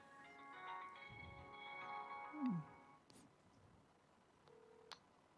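A telephone call is placed from a church youth group's recreation session: short electronic dialing and ringback tones sound faintly in a quiet room, with a steady tone near the end.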